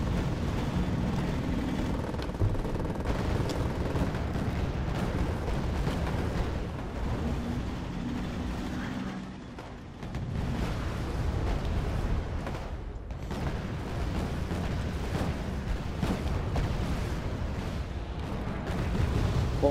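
Continuous rumbling war-game battle din from Wargame: AirLand Battle, with a bombing run and artillery fire rolling as dense, sustained booms and low roar, briefly dipping midway before resuming.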